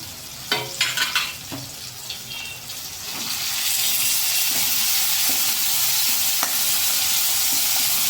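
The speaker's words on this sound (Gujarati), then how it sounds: "આદુ મરચાં અને લસણની પેસ્ટ નાખી દેશું" Ginger, chili and garlic paste for a pigeon pea and green garlic curry hitting a hot pan, a few clatters of a spoon and then a loud, steady sizzle that keeps going, close up with no talk.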